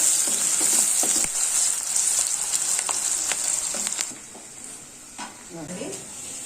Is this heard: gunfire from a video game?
no